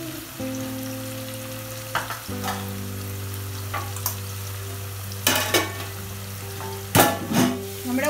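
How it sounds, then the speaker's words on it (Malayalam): Raw banana chips (Kerala ethakka upperi) frying in hot oil, a steady close crackle with occasional louder stirring scrapes and clinks over a low hum; no talking. "നമ്മുടെ ഉപ്പേരി ഇങ്ങനെ വറുത്തോണ്ടിരിക്കുകയാണ്"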